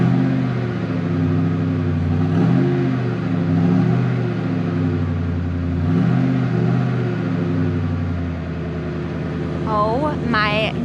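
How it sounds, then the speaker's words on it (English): A low-mileage 2003 Mustang SVT Cobra Terminator V8 cranks and settles into a loud, steady, deep idle from close by, with a brief revving rise in pitch near the end. "that is a 5-mile Cobra Terminator starting for probably like the 10th time or something"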